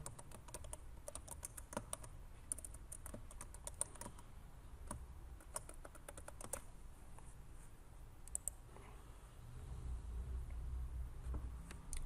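A username and password are typed on a computer keyboard, a quiet run of quick, uneven key clicks over a low background hum with no talking, ending in a few isolated taps.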